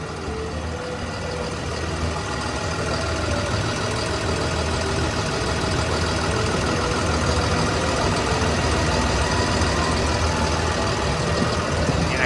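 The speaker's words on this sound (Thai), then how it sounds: "เครื่องยนต์ก็ทำงานได้เงียบมากๆนะครับ" The six-cylinder turbo diesel engine of a Hitachi ZW220-5B wheel loader idles steadily and smoothly throughout, a low, even rumble with no revving and no voices.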